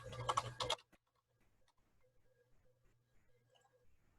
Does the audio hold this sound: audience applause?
no